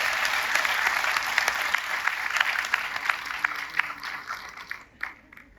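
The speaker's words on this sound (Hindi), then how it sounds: "एक बार जोरदार तालियां आप लोगों के लिए बनती है।" Audience applause at a Gamma Oryzanol training session, steady dense clapping from many hands that carries on for several seconds before thinning and fading out near the end.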